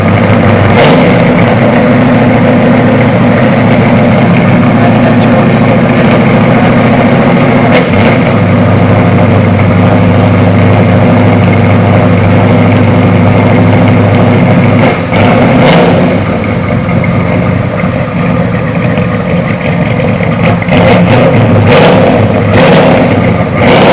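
A 1970 Ford F-100 classic pickup truck idles steadily at close range, a loud, continuous low rumble with a couple of brief blips of throttle and no talking over it.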